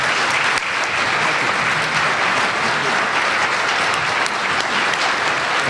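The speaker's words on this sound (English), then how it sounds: "Let's give him one more round of applause as he walks out." An audience at a GHCA event gives the governor sustained, dense applause after his speech, a steady loud wash of clapping for several seconds with only faint crowd murmur.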